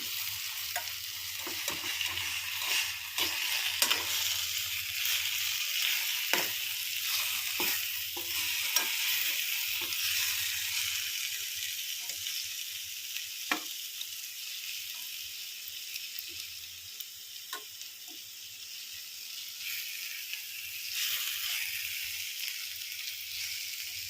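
Stuffed eggplant with onion-chili masala fries in a pan and is stirred, giving a continuous soft sizzle with repeated scraping and clacking stirring strokes spread across the whole stretch, close by and with no voices.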